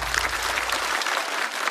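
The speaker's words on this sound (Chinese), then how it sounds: "再次掌声送给小雪" A stand-up comedy show audience gives comedian Xiaoxue a sustained round of applause: dense, steady clapping from a full crowd that stays loud and even throughout, with no voices over it.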